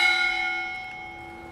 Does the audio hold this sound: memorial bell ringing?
yes